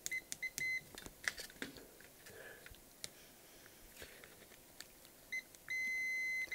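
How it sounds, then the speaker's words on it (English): Multimeter continuity-test beeps while probing the coil of a 1959 Lafayette coaxial loudspeaker: several short electronic tones early, then a longer steady beep near the end, amid small clicks and handling noise, fairly quiet. "Continuity test."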